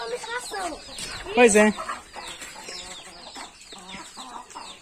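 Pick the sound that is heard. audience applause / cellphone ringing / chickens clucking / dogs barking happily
chickens clucking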